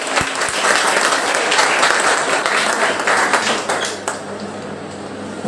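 Loud applause from an audience at a school Hindi Day poetry event, thick clapping that thins and fades toward the end, leaving a few scattered claps and faint room noise.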